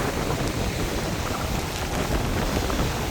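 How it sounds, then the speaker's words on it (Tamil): Light drizzle falling during a coastal storm, with gusting wind, making a dense, steady hiss of rain and air that stays loud and unbroken throughout, with no voices. "மழை இப்போ லைட்டாக தூறிக்கொண்டு தான் இருக்குது."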